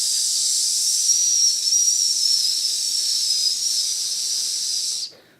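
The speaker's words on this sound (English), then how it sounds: "Exhale on a hiss, but resist." A long, steady breathy hiss exhaled through the teeth, close and loud, lasting about five seconds before cutting off.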